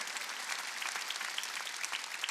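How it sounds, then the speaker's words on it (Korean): Congregation applauding during a Korean church Wednesday worship service, a steady, even wash of many hands clapping together, moderately distant and filling the room without voices on top. "박수"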